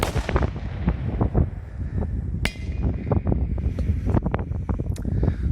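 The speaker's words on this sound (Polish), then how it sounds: "To już któraś petarda od triplexa, którą testujemy i która jest" A Triplex Super Bangs TXP067 firecracker goes off outdoors with one sharp, loud bang in the middle, set among gusty wind buffeting the microphone and a few smaller knocks.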